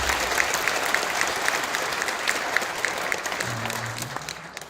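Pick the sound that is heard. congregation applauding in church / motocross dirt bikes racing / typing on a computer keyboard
congregation applauding in church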